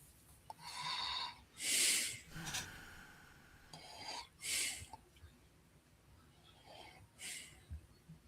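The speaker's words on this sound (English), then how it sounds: "I hear heavy breathing." Heavy breathing comes in several loud, raspy, close bursts separated by quieter gaps, with a faint voice murmuring beneath.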